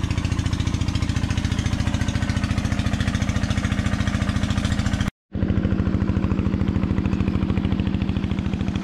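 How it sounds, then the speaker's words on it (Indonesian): A tractor works a wet rice paddy in Soppeng, South Sulawesi, its engine throbbing loud and steady with a rapid pulsing beat, broken by a brief dropout before the same drone resumes. "Traktor ya."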